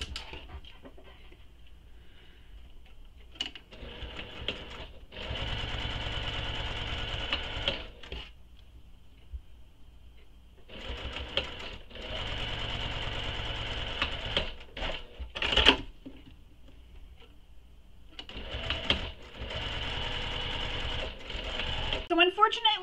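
A sewing machine topstitches the long edges of small fabric bag connectors in several separate bursts of rapid close whirring, with quiet gaps and handling clicks between runs.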